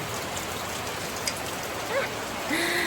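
Rain falls steadily during a tropical storm, a dense even hiss close by, with a few faint background sounds and chirps near the end.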